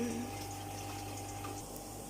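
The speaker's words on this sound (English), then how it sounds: "You don't need to be watching water fill, it's boring." Water runs from a tap into fish tanks during fish room maintenance, a steady close rushing hiss with a constant low hum underneath.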